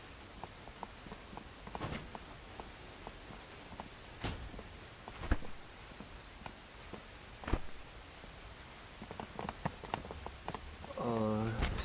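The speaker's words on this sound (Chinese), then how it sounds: "下雨了" Rain falls on surfaces outdoors, a soft continuous patter with scattered louder drips and thuds, while a voice briefly speaks near the end.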